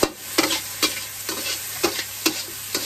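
Pork stir-frying with seasoning over low heat, with a spatula striking and scraping the pan in repeated strokes roughly every half second over a light sizzle, close and clear.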